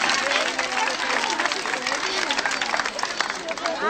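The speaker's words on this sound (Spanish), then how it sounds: "estos aplausos acaban enseguida." Applause and crowd hubbub at a village festival, a dense wash of clapping mixed with shouting voices and chatter, loud and close throughout the few seconds.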